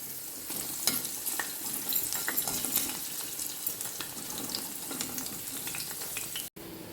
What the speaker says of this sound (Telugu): ఒక కాకరకాయని 2 ముక్కలుగా చేసుకుని నూనెలో వేసి వేగించుకోవాలి.